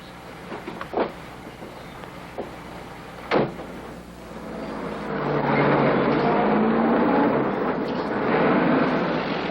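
A 1949-era car door thumps shut a couple of times, then the engine starts and a steady, loud motor rumble builds as the car pulls away.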